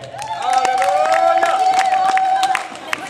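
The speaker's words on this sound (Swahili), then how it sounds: "Naomba tumpigie Bwana Yesu makofi kwa ajili yake." Church congregation in Arusha clapping and cheering, a loud sustained burst of crowd noise with whoops and a held voiced tone over the top, lasting about two and a half seconds before easing off.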